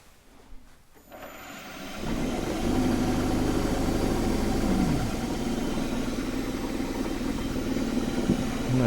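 A wood lathe turning a vibrating fiddleback eucalypt display bowl: a quiet start, then the motor spins up after about two seconds into a steady, loud, humming drone with a low vibrating rumble that continues alone.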